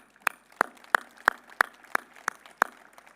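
A handful of slow, evenly spaced claps ring out distinctly at a university commencement ceremony, roughly eight separate claps with quiet gaps between them, sounding sparse rather than a full crowd ovation.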